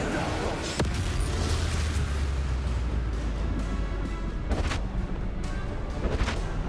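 Bombarda explosion spells blasting in Hogwarts Legacy combat, a dense roar of booming impacts with a sharp crack near the start and recurring bursts throughout, loud and continuous over game noise.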